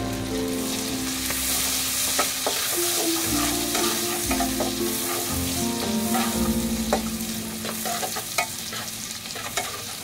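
Chopped onions sizzle steadily in hot oil in a pan, a dense broadband fry with spatula scrapes and stirring clatter throughout, close and loud, with no voices.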